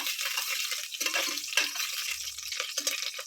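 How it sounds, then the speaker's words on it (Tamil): Whole cloves, cinnamon, bay leaf and cardamom sizzle in hot ghee while being stirred, a steady close hiss with soft scraping strokes of the spoon for chicken biryani. "நெய் காஞ்சதும் இப்போ நம்ம எடுத்து வச்சுருக்கிற ஸ்பைசஸ் எல்லாம் சேர்த்திக்கலாம்"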